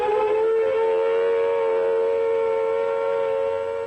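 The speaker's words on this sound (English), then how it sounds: "A wavering, undulating sound on the outdoor sirens lasting 3 to 5 minutes" A loud outdoor civil defense siren sounds the attack warning, holding a steady, wavering wail, its pitch undulating slightly as it sounds alone and fills the air.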